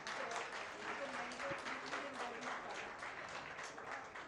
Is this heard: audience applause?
yes